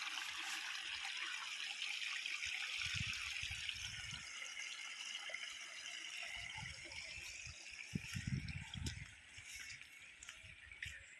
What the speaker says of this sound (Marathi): इकडनं सगळं पाणी जातं गटाराला.